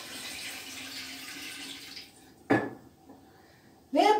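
Liquid whey from homemade cheese making, from lamb rennet, poured out in short splashing bursts, close and fairly clear after a quiet pause.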